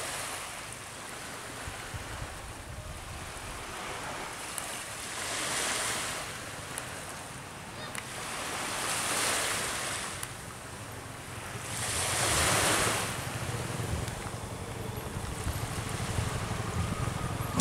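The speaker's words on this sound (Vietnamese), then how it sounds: "Mấy chiếc ghe này người ta chuyển đồ, người ta chạy cặp biển luôn, khỏi chạy trong sông, chạy ngoài biển nhanh hơn á." Wooden cargo boats off the Kiên Giang coast of Vietnam run along the open sea on a calm day, with a steady wash of surf and wind noise and a low engine rumble swelling and fading under the waves.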